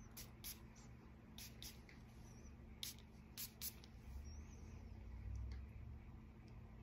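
Ormonde Jayne Arabesque perfume sprayed from an atomizer in several short, crisp hisses, close and fairly quiet over a steady low background hum.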